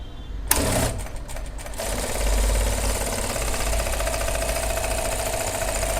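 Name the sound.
Jack A4C heavy duty sewing machine stitching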